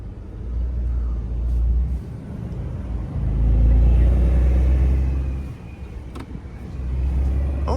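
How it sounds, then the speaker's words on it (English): A Porsche 992 Carrera T's engine rumbles low and steady nearby, swelling and easing in two broad waves, with a faint turbo spool rising over the road noise. "Oh, we got a little bit of turbo spool."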